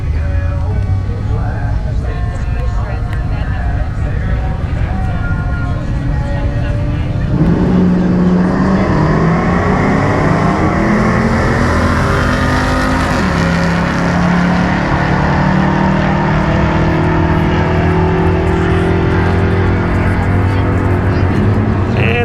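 A Pontiac Firebird and a Dodge Challenger with a small block Dodge engine drag racing, loud continuous engine roar that shifts and rises partway through, with speech over it.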